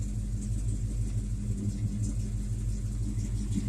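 A 1984 Chevy Silverado C10 pickup's engine idles after a cold start, a steady low rumble with a pulsing exhaust beat that stays close and constant throughout, with no talking.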